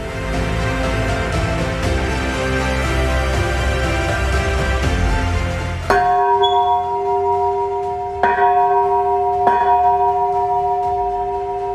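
A restored church bell from a town museum rings loudly and resonantly amid a dense wash of pealing, then strikes three clear, separate tolls that each hang and decay in the quiet.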